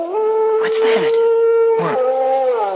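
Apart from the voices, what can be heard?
dog howling outside, radio drama sound effect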